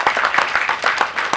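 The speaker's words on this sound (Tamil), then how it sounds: "உங்களோட கரகோஷங்களோடு" Audience applause at a film audio launch event, a dense, steady patter of many hands clapping that carries on without a break.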